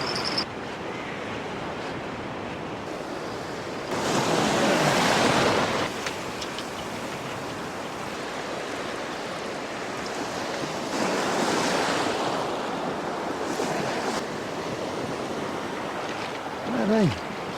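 Sea waves roll and break on the beach at Peterhead harbour on Boxing Day, a steady roar with several louder surges building and fading, wind buffeting the microphone throughout.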